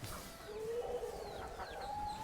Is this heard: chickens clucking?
yes